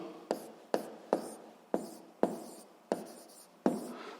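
A pen or pencil writes physics notes on paper in close, quiet, rhythmic strokes, about eight distinct scratches spaced roughly half a second apart, with no speech over them.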